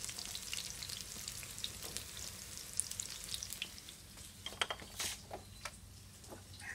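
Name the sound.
vegetarian ribs frying crispy in a pan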